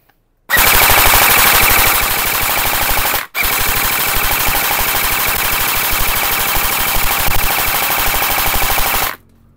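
A gel blaster rifle fires on full auto in two long, loud, rapid bursts, the first about three seconds and the second nearly six, separated by a brief pause, close up with no talking.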